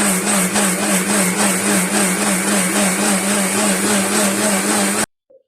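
A kitchen mixer grinder whirs loudly and steadily while grinding rice and coconut into a fine neer dosa paste, then cuts off abruptly and leaves a short quiet tail.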